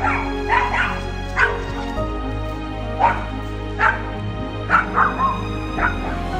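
A chihuahua barks at a bear that has wandered into a residential area. Its sharp yips and short barks come in quick, spaced bursts, mixed with whimpers, close and clear over low background hum.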